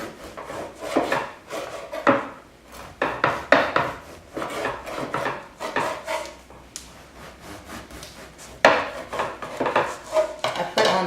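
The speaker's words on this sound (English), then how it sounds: "I'm going to slice it on the diagonal so we get a nice long piece of French" A knife saws back and forth through a loaf of French bread cut on the diagonal, close rasping strokes in uneven bursts with crusty crackle, no talking.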